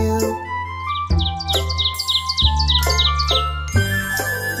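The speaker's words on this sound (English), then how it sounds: "I hear the birds" Cheerful birdsong in a spring-themed children's song: repeated bright chirps and tweets run over a steady musical backing with tinkling notes, loud and close throughout.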